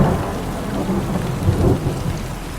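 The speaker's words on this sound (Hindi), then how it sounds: "एक रात बहुत तेज बारिश हो रही थी।" Heavy rain pours steadily with rumbling thunder swelling midway, a dense continuous storm bed with no voices.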